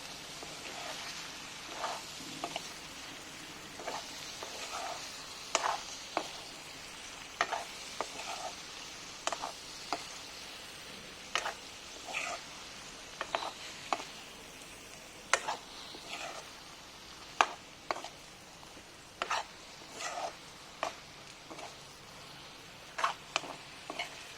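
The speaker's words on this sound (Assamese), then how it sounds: "এতিয়া মই পুনৰ এইখিনি লৰাই দিম।" Pork and lai greens frying in their own fat in a pan, stirred with a steady sizzle underneath and repeated sharp scrapes and clicks of the utensil against the pan, close up and without talk.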